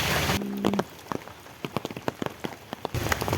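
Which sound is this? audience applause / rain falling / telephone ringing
rain falling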